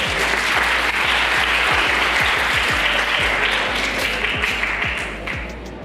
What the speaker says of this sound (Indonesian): Tepuk tangan dong buat mereka semua.